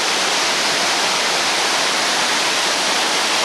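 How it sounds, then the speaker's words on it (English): A waterfall with water rushing down at a pond area, a loud, steady broadband roar that fills the whole stretch without a break or any voices. "the water rushing down"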